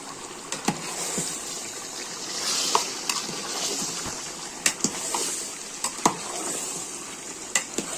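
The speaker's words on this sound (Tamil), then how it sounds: "இது நல்லா கொஞ்ச நேரம் நம்ம நல்லா வதக்கி கொடுப்போம்" Three kilos of chicken sauté with masala for biryani in a large pot, giving a steady sizzle under repeated scraping stirs and sharp clinks of a ladle against the metal.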